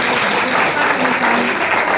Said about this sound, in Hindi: एक बार और तालियां, एक तालियां।